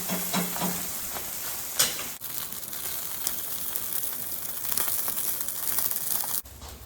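Salmon fillet frying skin side down in a hot pan for blackened salmon, a steady crackling sizzle throughout with a few brief clatters near the start and a quieter stretch at the end.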